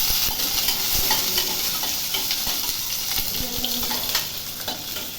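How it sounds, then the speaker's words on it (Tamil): Small shallots sizzle in hot oil with cinnamon, clove and fennel in a pan, a steady close frying hiss broken by light stirring scrapes and ticks throughout, with no talking. "நம்ம எடுத்து வச்சுருக்கிற சின்ன வெங்காயத்தை போட்டு வதக்கிக்கணும்"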